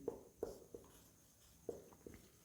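Pen scratching on paper while working a class 10 maths problem, a few short quiet strokes with gaps between them, faint and close.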